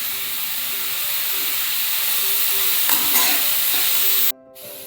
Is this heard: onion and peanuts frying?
yes